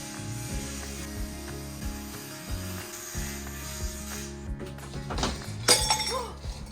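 A glass mason jar breaks on a construction site, a sharp bright shatter near the end following steady mechanical ratcheting noise, close to the listener.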